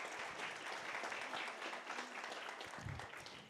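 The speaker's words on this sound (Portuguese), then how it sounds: "uma salva de palmas para o Fabiano" Audience applause at a mining and climate change forum in Brazil, a fairly quiet but continuous patter of many hands clapping, steady throughout with a faint voice or thump near the end.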